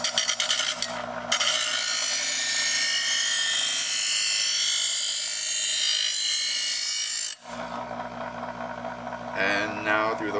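Presto Eversharp electric knife sharpener grinding a knife blade, a high, harsh whirring drone with the blade drawn steadily through for several seconds, framed by the motor's hum before and after, with some talk alongside.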